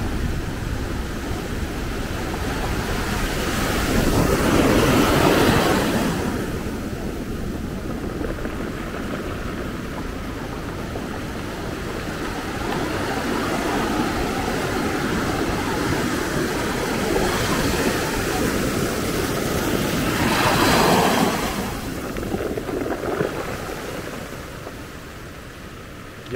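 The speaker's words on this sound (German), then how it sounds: "da kann man gar nicht weg von den schönen Wellen hier" Atlantic waves break on the beach at Maspalomas, Gran Canaria, on a windy day, a broad steady surf roar that swells as each breaker crashes in and then eases back, with no talk.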